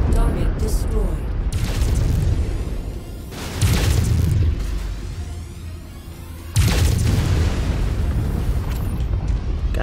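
Heavy explosions from a mech being destroyed in MechWarrior 5: Mercenaries boom in three loud rumbling blasts, each swelling and then lingering, with a low engine drone between them.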